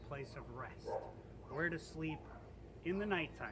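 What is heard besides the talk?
dogs barking in the background at dusk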